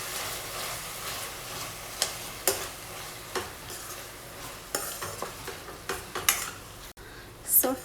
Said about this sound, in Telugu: టమాటో అంతా కూడా ఇలా మధ్య మధ్యలో మిక్స్ చేసుకుంటూ ఫ్రై చేసుకోవాలండి